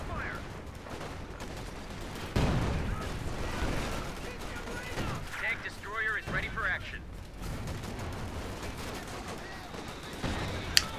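Rifle squads fire in the strategy game Company of Heroes 2: a rapid crackle of rifle and machine-gun bursts with booming impacts, dense and moderately loud, shifting in intensity throughout.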